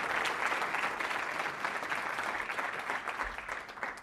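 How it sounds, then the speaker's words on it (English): Audience at a business analysis talk applauds steadily, a continuous, moderately distant patter of many hands that eases slightly toward the end. "Round of applause, people."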